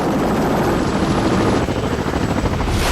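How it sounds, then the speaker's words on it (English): A loud, continuous roar from a Chinook twin-rotor British Army helicopter fills the air with heavy rotor thumping and whine, close by and steady throughout. "The Chinook is the workhorse of the British Army, a giant helicopter that can move heavy loads around the battlefield."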